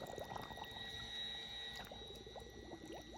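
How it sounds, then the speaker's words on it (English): A Yousky handheld pool vacuum fills with water, giving a steady bubbling, gurgling wash of liquid with small rising glugs, close and continuous beneath a constant electrical whine. "let it fill up with water"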